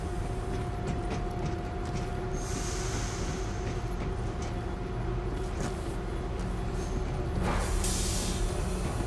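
In the World War Z video game, a train rolls along with a continuous heavy rumble, faint metallic clatter and a thin high wheel squeal that rises briefly near the end.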